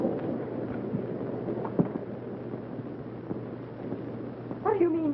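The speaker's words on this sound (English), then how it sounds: "they have thunder and lightning" A thunderstorm rumbles as a steady low roar with rain and wind, with a few soft cracks, and a voice breaks in near the end.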